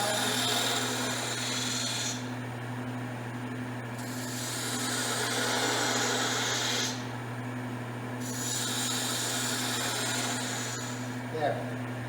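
A woodturning spindle gouge cuts a cove in wood spinning on a lathe, with the motor's steady hum underneath and three hissing, scraping cutting passes that rise and fall, close up.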